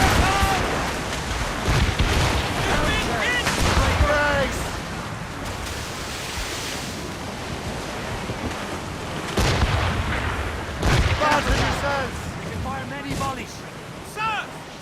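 Ship cannons firing in the naval battle video game Assassin's Creed Rogue, a series of heavy booming blasts with rumbling ocean and wind noise, voices shouting between volleys.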